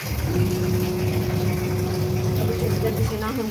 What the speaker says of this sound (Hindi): मशीन में डाल दिए हैं पानी वगैरह, अब धोते हैं कपड़े जल्दी जल्दी से